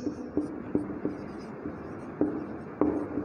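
Chalk taps and scratches lightly on a classroom board in short, irregular strokes, quiet and close, with a faint room hum and no speech.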